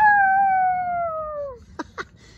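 A child imitates a wolf howl with one long, loud, falling vocal tone lasting about a second and a half, followed by two short breathy yips.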